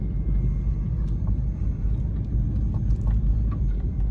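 A lifted Subaru Forester with a 2-inch lift, heard from inside while driving, gives a constant low road rumble and drone where the tires rub, with faint intermittent scraping ticks above the steady engine and road noise.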